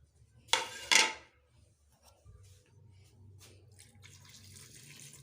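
Raw mutton being washed under running tap water in a pressure cooker: two bright splashing bursts followed by a softer, steady trickle of water and faint handling noises.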